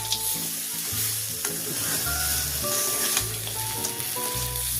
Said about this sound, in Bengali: এবার গুড় দিয়ে আমি নেড়ে নিচ্ছি।